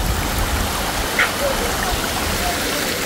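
Clear jungle stream water flowing in a steady, close rushing babble, with a brief faint voice in the background.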